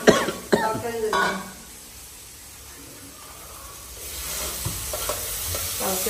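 Tomato chutney frying in a home kitchen pan, with stirring scrapes and clatter in short bursts at the start and end, a soft sizzle underneath, and brief quiet talk and a cough nearby.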